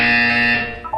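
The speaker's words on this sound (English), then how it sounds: "When you hear the buzzer, look down at the floor." A loud electronic buzzer from the video game Portal 2 sounds as one sustained harsh tone with strong harmonics, cutting off quickly.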